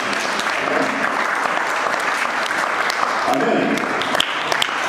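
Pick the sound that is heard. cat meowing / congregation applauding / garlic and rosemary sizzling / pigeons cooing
congregation applauding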